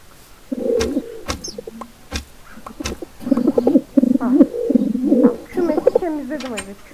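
Pigeons from a Minecraft pigeon mod coo in repeated soft, throaty bursts, several overlapping calls with brief wing flutters and clicks, close and fairly loud.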